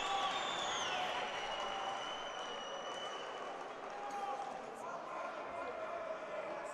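Boxing arena crowd at a light welterweight semifinal cheering for an Azerbaijani fighter, a sustained roar of distant voices and applause that fills the hall, with a commentator talking over it.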